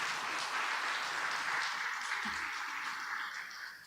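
Audience at a university academic awards ceremony applauding a newly honoured Datuk, a soft, distant spread of clapping that fades slightly toward the end.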